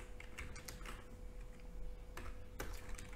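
Soft, scattered clicks of keys being typed on a computer keyboard while writing code, faint and irregular over a low background hum.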